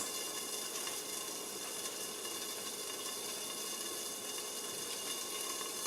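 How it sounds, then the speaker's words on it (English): Ham and cheese frying together in a pan give off a soft, steady sizzle with faint crackling, quiet and continuous without talk. "The ham is frying together at the same time."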